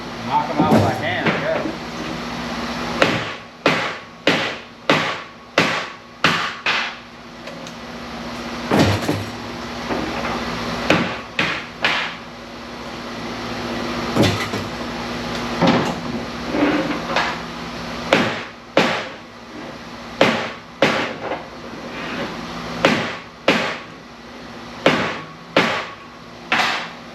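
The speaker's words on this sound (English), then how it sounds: "You might want to give them a little tap." Delaminated parts of large scrap LED lights are knocked loose with repeated sharp taps and clanks, irregular bursts of impacts close by in a workshop, with a steady electrical hum underneath.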